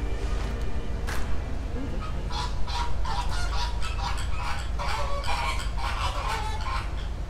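Birds call near Airstream trailers at the Tampa zoo, giving repeated honking cries in an uneven series over steady outdoor background noise.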